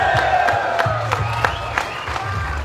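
Live crowd at the UFC 284 open workouts in Australia, a dense steady roar of cheering and shouting with scattered whoops and claps, loud and sustained throughout.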